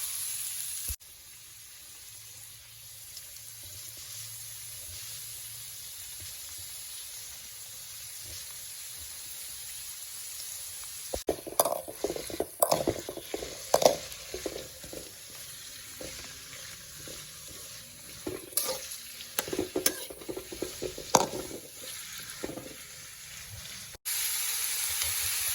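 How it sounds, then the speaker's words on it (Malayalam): Onion and garlic sauté in an uruli pan. A low, steady sizzle gives way to busier scraping and stirring with bursts of hiss, close by, with no voices. "അപ്പോൾ അതും അതിൽ ഉള്ളി ഒന്ന് വാടിയതിന് ശേഷം ഇട്ട് കൊടുത്തിട്ട് വഴറ്റിയെടുക്കുകയാണ് ചെയ്യുന്നത്"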